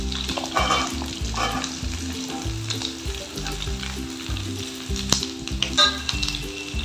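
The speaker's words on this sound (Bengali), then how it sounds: "এবার আমি কুমড়োটাও দিয়ে দিচ্ছি।" Pumpkin stir-fried in a pan with potato and pointed gourd, a loud continuous sizzle broken by brisk, rhythmic spatula scrapes and stirs close up, with no one talking.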